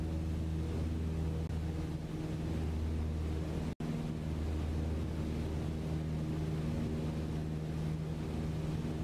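Steady droning aircraft engine with the throttle eased back in Microsoft Flight Simulator 2020, a continuous even hum with one brief dropout midway.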